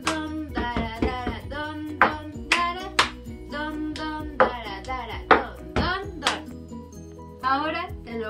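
Children clap their hands twice, then strike a table with alternating hands in a steady chant-like rhythm, each hit sharp and close, with young voices singing along throughout.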